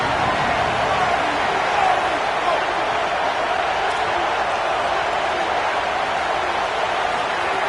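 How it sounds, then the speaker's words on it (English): A large college football crowd roars steadily in the stadium at Happy Valley on third down, a broad sustained wash of cheering that holds level throughout with no clear pauses. "Here comes the noise from this big crowd in Happy Valley on third down"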